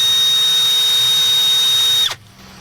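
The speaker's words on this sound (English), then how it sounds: "Got our drill going the same way" A power drill spins the engine of a John Deere Gator 4x2 in neutral, giving a steady high whine with a strong constant tone that cuts off abruptly after about two seconds, leaving quiet behind.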